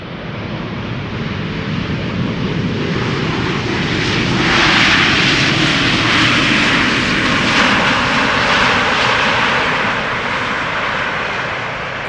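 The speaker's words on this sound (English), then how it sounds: "KLM flight 696 arriving from Toronto, Canada, about to land." A KLM jet airliner lands at Amsterdam Schiphol Airport, its engine roar a loud, steady broadband rush that swells toward the middle and holds, with no talk over it.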